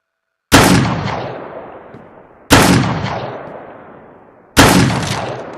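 Three loud, close gunshots in the Beyond Sandbox video game, evenly spaced about two seconds apart, each with a long echoing decay, with no talk over them.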